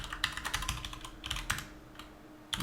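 Typing on a computer keyboard at a developer's desk, quick close clusters of key clicks with short pauses between bursts, fairly quiet and with no talk.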